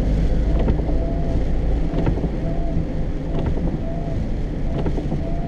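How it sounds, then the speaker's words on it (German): Steady, loud wind buffets and rushes past while a Sprinter van drives at about 30 km/h, with faint periodic knocks and squeaks under the constant roar. "Mir weht der Wind hier so durch die Haare."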